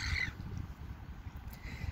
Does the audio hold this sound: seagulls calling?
yes